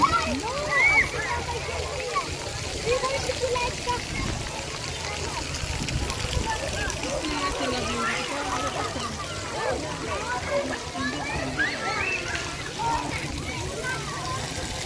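People swim and splash in an outdoor holiday park pool in Porthcawl, Wales, a continuous busy wash of water with voices chattering throughout.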